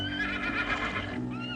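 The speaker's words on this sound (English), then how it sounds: "Beyond Shorty was the remuda of spare horses" A horse whinnies loudly and close in a ranch setting where spare horses are kept, its high wavering neigh filling most of the moment before trailing off near the end.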